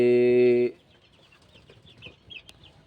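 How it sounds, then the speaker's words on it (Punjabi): A broody hen clucking on a farm, with soft, scattered low clucks and bird chirps at a moderate distance, following a brief loud tonal burst at the very start. "ਇੱਕ ਆਪਣੀ ਮੁਰਗੀ ਉਹ ਥੱਲੇ ਬੈਠੀ ਆ ਕੁੜਕ ਹੋ ਗਈ"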